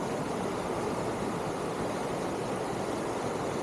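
Lone Ranch Creek flows near the beach at Lone Ranch Beach, Oregon, giving a steady, broadband rush of running water with no pauses and no voices.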